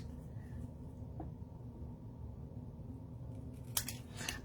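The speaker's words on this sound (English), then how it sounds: "I need my scissors." Scissors cutting paper at a rubber-stamping craft table: a quiet stretch, then two short, crisp snips close to the microphone near the end.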